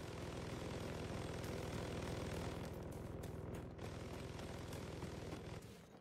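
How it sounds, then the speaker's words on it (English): A surveillance drone hovers nearby in the Second Extinction video game, a steady propeller-like engine drone that stays loud and continuous throughout, with a few faint clicks over it and no talk. "We got a drone right here."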